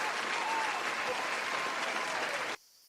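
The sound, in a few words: applause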